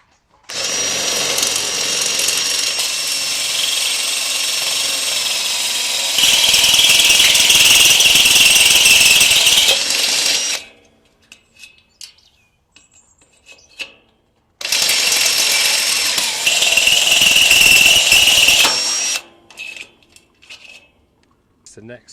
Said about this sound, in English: so we'll drill the outer hole and then drill the inner hole